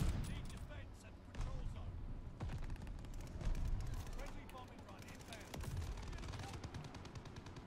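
Dense, rapid gunfire and booms from a gun in the game Call of Duty: Vanguard, firing continuously with scattered heavier blasts, mixed with a person talking over the action.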